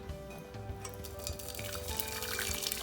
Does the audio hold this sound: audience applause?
no